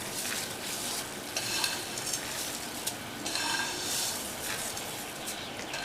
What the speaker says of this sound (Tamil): தீயை குறைச்சிட்டு இந்த சேமியாவை சேர்த்துக்கோங்க.